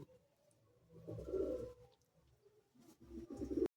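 Pigeons coo softly in two low, throaty bursts, quiet and close, with faint rustling between them.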